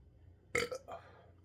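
One close, loud burp brought on by a hot pepper, a sharp onset with a brief broken trailing release, standing alone without speech.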